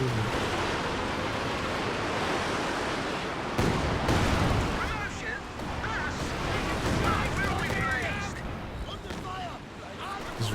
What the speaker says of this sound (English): Rocket artillery coming in all over the map.